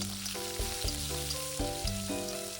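Hot oil with a spoonful of five-spice and two dried red chillies sizzles in a pan as garlic goes in. A soft, steady frying hiss runs under prominent background music.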